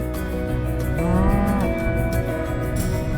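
Cattle on a North Carolina farm moo loudly, one long rising-and-falling low call standing out near the middle over a dense, steady backdrop of other lowing and barn noise.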